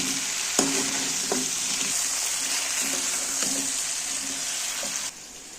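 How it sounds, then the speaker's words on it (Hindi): Garlic and ginger paste frying in a hot pan while being stirred, a steady bright sizzle with periodic scraping strokes of a spoon, close and continuous, ending abruptly. "अब इसमें मैं डालूँगी, सबसे पहले डालूँगी लहसुन और अदरक का पेस्ट।"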